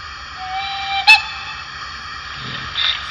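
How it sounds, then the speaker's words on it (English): A short, sharp whistle toot rings out over a steady mechanical hum, preceded by a thin sustained tone: the shunting whistle sound function of a model 4-6-2 Pacific steam locomotive. "we have the shunting whistle with F8."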